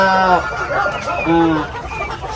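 Several gamefowl chickens clucking and crowing nearby on a poultry farm, with overlapping calls and a busy farmyard background.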